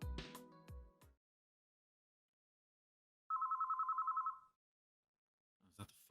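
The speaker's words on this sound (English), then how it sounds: "Is that the phone? Who'd be calling at this hour?" A telephone rings in the video game White Album, a single burst of rapid, trilling electronic bell tones about a second long, heard between short bursts of other game sounds.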